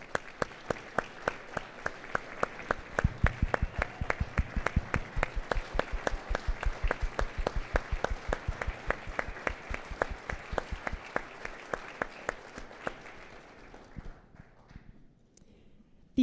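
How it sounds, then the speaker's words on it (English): A standing round of applause at the Scouts Canada annual general meeting, a large crowd clapping steadily and loudly for about thirteen seconds before thinning out and fading near the end, with no talk over it. "So please stand for a round of applause."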